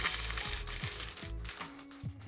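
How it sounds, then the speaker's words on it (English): Coffee beans pour into the top of a coffee grinder in short rattling bursts, a quick series of close, crisp patters and clatters with brief pauses between. "I want coffee falling down into the grinder"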